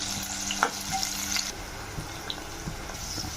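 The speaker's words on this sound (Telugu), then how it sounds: "ఫ్రైడ్ ఆనియన్స్కి ఇవి గోల్డెన్ బ్రౌన్ కలర్ వచ్చేంత వరకు వేటేస్తాం" Onions frying in oil toward golden brown for Mughlai chicken biryani, a bright close sizzle with a few clinks and liquid splashes in the first moments, then a quieter hiss.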